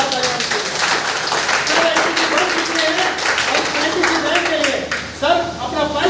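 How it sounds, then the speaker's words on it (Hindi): An audience at a business event gives loud, sustained applause, dense clapping that runs throughout with people talking over it. "जोरदार तालियां"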